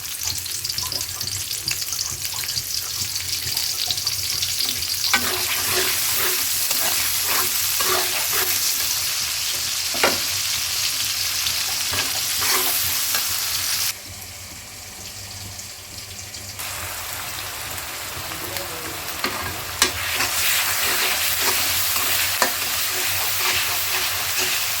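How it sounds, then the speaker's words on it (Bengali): Onions fry in hot oil with pre-fried potatoes for a country-chicken pulao, giving a loud continuous sizzle with stirring scrapes and clicks, briefly dipping quieter before the frying resumes at full strength, no one speaking. "তেল দিয়ে দিচ্ছি বন্ধুরা, পরিমাণ মতো পেঁয়াজ দিয়ে দেবো।"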